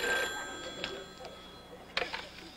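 Telephone ringing in a sitcom apartment, a thin bell-like ring over a busy room-noise background with a couple of sharper bursts, moderately faint.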